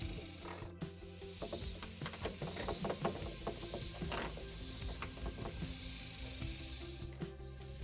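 Metallic ratcheting and clicking from bolts being tightened on a snorkel mounting bracket during a Toyota Hiace OEM snorkel install, a steady series of close, moderately loud mechanical clicks and turns with faint hiss underneath and no talking.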